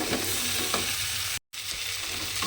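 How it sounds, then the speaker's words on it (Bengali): Potatoes stir-fried with soybean chunks in a pan give a steady broadband sizzle with soft scraping strokes, cut by a brief silent gap midway, with no voices. "আলুটা আমার খুব ভালোভাবে কষানো হয়ে গেছে"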